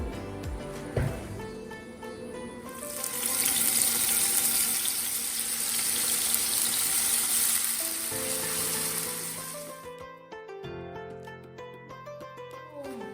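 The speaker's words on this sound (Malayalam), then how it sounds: "ഇനി നമുക്ക് ഷവർമയിലേക്കുള്ള ചിക്കൻ ഒന്ന് ഫ്രൈ ചെയ്തെടുക്കണം" Chicken frying in a pan for fajita chicken shawarma, a loud sizzle that rises and holds steadily for several seconds before cutting off, with soft background music throughout.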